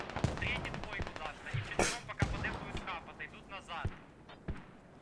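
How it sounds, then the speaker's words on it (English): In the military shooter game Squad, sharp gunshots and bursts of fire crack amid distant mortar explosions, scattered irregularly over several seconds beneath commentators talking. "The mortars will never cease."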